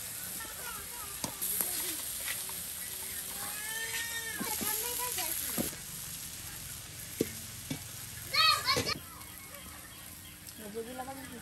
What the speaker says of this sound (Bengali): শুকনা মরিচ তেলে ভাজা শুকনা মরিচ দিয়ে দেওয়া হবে